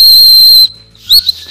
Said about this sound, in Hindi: चलो बजाते हैं सीटी को